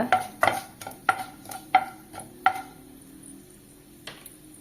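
A spoon stirring fenugreek seeds and dried red chillies in a pan for a brinjal drumstick kara kuzhambu, a run of sharp scraping clicks, faint sizzling in the pauses, then quiet with one last tap.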